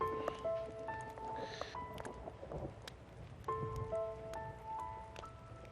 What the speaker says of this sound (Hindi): बाहर अचानक बारिश शुरू हो गई